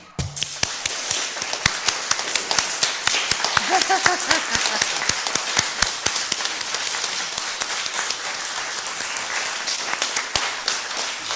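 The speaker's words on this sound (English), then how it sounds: "Oh, we can just keep applauding." A church congregation applauds at a Sunday service with a dense, sustained wave of clapping that stays loud and even throughout, and a voice briefly rises over it near the start.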